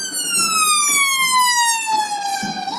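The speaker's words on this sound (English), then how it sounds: "we've also got an ambulance about to come through" Ambulance siren in London traffic during a street protest, loud and close, a single long wailing tone sliding slowly downward with rich harmonics, faint traffic rumble beneath.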